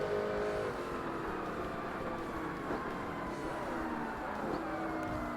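A race car in Forza Motorsport drones at high revs, its engine note rising and falling through gear changes with a steady road rush under it, alone and at moderate level.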